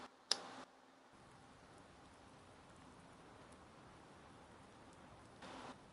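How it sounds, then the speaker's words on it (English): Soft, steady rain patters quietly in the background of Farming Simulator 19, with a sharp click near the start and a slight swell at the end. "It is raining."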